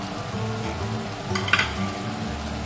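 Ground coriander, cumin, Kashmiri chilli and red chilli powder drop into hot oil in a pan for a fish-head muri ghonto, giving a steady close sizzle with a brief louder burst of frying partway through.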